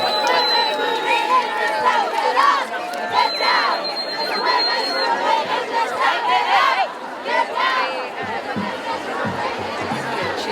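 A large crowd at the 2017 Women's March in San Jose, California chatters in many overlapping voices at close range, with occasional shouts and whistles rising above the steady hubbub.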